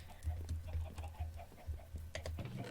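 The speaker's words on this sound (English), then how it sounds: "It's just a hole full of chickens." Chickens in a hole in a castle-building video game, a run of soft repeated clucks at a steady pulse, moderately close and fairly quiet.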